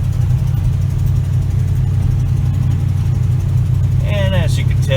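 A lifted 1977 Chevy K20 heavy-duty truck drives through a quiet small town, its engine giving a loud, steady low drone close by, with a brief voice near the end.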